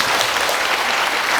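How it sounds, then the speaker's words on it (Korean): An audience at a film screening and talk with a director, held at a university, bursts into loud, dense applause that fills the whole moment. "박수 한번 부탁드리겠습니다."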